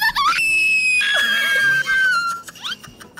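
A loud, high-pitched scream rings out in the horror game Demonologist, sustained for about two seconds with wavering pitch before breaking off into fainter, squealing cries.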